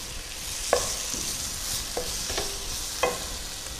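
Spices and chilli powder frying in oil for a coconut milk prawn curry, with a steady soft sizzle and a few sharp scrapes of a stirring spoon against the pan, close and without talk.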